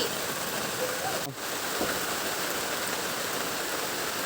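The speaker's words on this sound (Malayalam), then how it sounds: "എന്തൊരു മഴയാണ്" Steady, dense rain pours down as a constant hiss, with a brief sharp whoosh near the start and no talking.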